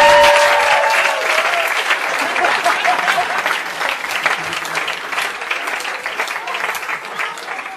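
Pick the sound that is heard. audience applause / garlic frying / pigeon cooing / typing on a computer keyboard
audience applause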